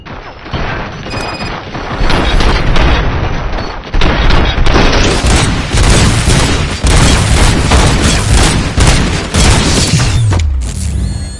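Sustained loud gunfire in the video game RoboCop: Rogue City, dense rapid shots and crashing impacts running for several seconds without a break before cutting off near the end.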